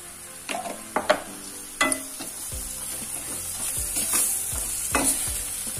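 Spices for a bitter gourd and paneer curry, with dried fenugreek leaves, fry and sizzle in a pan while a spoon stirs and scrapes in irregular bursts over a continuous hiss.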